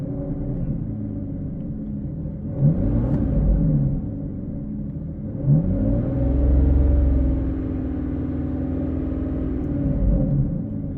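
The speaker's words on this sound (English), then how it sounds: "I'm definitely happy with the idle. It doesn't feel like it has a miss now." An Aston Martin DB11 V12 idles after new spark plugs and coil packs are fitted: a steady, close, deep hum with a smooth even tone, swelling softly in two brief rises, with no voices.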